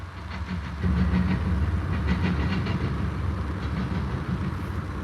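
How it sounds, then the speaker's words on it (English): A BNSF westbound freight oil train with a Norfolk Southern engine rolls steadily past at close range, a loud continuous rumble with rhythmic wheel clacks and hiss, no voices. "It's like an oil train."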